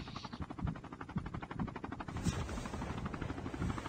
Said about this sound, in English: Pinapapaputukan ni Mucho Carino ang chopper ni Romel